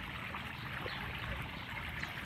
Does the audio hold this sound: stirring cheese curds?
no